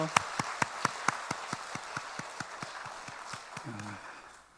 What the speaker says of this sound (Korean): 우리 힘차게 박수하겠습니다